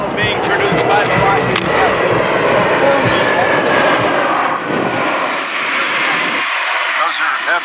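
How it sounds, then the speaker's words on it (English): F-16 fighter jets roaring overhead at a Miami Beach, Florida air show, a loud, sustained broadband engine rush that fills the whole stretch before cutting off abruptly near the end, with a voice talking underneath. "Those are F-16s."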